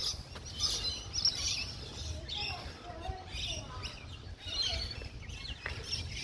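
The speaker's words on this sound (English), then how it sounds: "you can hear the birds." Birds chirp and tweet in scattered bursts at a koala sanctuary near Nelson's Bay, faint and some distance away, over a low background hum.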